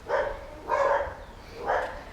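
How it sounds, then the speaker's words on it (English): Dogs barking in three distinct bursts, spaced evenly and moderately close, with no talk over them, heard outdoors while a dad and his child cook eggplant parmesan. "We've got some dogs cheering us on."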